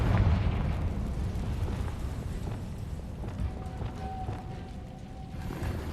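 A Confringo blasting-spell explosion in the Hogwarts Legacy video game sounds as a deep rumbling boom at the start, followed by a sustained roaring, crackling blast that gradually thins out.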